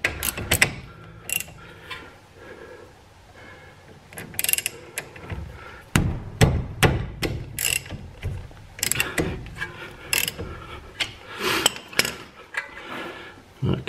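A hammer taps at a corroded front brake rotor on a Jeep Patriot, producing a run of sharp, close metallic knocks that cluster in bursts over low background noise, with faint talk in between.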